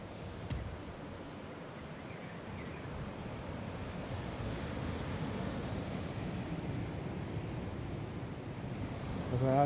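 Sea waves wash onto the shore at a Gujarati coast near a temple at high tide, a steady broadband surf roar with wind buffeting the microphone, building slightly louder toward the end, no voices.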